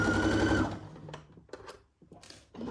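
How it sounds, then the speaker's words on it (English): A sewing machine back stitching the start of a left side seam on a Simplicity 1802 Cynthia Rowley garment, running loud and steady for under a second, then stopping. Quieter handling noises follow, with a brief renewed burst at the end. "we are doing back stitch here"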